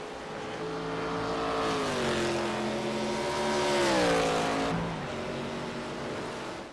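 ARCA stock race cars roar around the Watkins Glen road course, engine pitch rising and falling through gear changes as a loud pack passes close by, with no talk.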